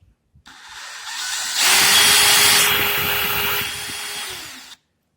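A power drill whirs steadily at close range, drilling slowly into an olla for an irrigation system, rising in strain as it bites into material, then stops abruptly.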